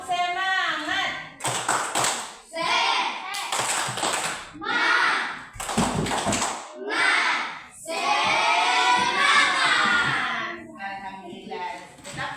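Schoolchildren perform the tepuk semangat clapping chant, bursts of loud rhythmic group claps alternating with shouted voices in a lively classroom, the pattern repeating several times.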